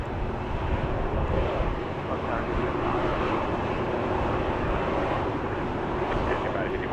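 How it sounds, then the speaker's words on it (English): A Southwest airliner arriving from Austin at Dallas Love Field makes a steady, broad engine roar mixed with wind buffeting, loud and continuous throughout. "Got a Southwest flight coming in from Austin"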